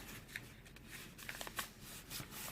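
Sheets of paper being folded into an origami frog, with soft crinkles and sharp creasing snaps close by, a few louder crisp presses among steady rustling, and no talking.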